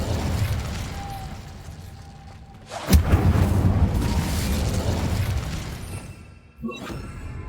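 A fire spell, Incendio, cast in Hogwarts Legacy, igniting with a sudden loud whooshing burst that sustains as a roaring crackle for several seconds, then cuts off with a second short burst.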